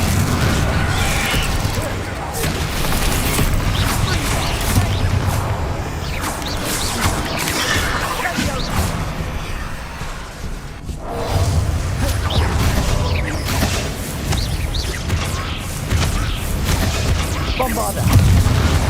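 Bombarda explosion spells in Hogwarts Legacy go off again and again, loud booms and crashes with whooshing bursts, one sharp blast after another over a dense, busy battle din.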